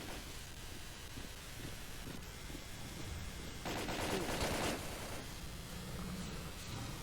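Distant gunfire in the video game Stalker: Call of Pripyat, a faint rattle of shots over a windy, rain-like ambience, swelling into a louder burst of fire midway before fading back.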